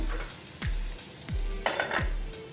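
Chunks of capsicum (bell pepper) cooking in a pan give a continuous sizzle, with a few scrapes and clinks of a spatula against the metal over a short stretch and no voices.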